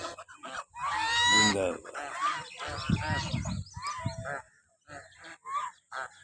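Ducks bathing in a park pond let out repeated loud honking quacks in bursts, close by, while someone talks and cheers over them.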